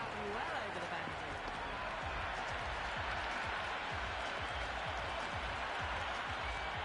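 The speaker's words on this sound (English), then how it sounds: "The crowd are really getting quite raucous." A stadium crowd in a Cricket 26 T20 match between India and South Africa roars and claps steadily, a dense wash of cheering under a commentator's voice.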